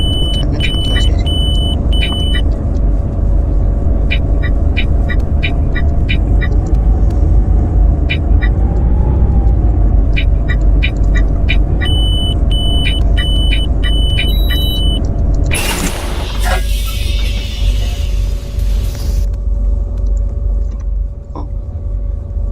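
Steady low rumble of a car engine in the Roblox game West Door City, idling and revving close by with small electronic beeps sounding over it and a brief sharp burst of noise near the end.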